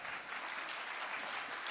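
A school audience applauds award winners, a continuous, even sheet of clapping from a large crowd heard at a moderate distance, with no voices over it.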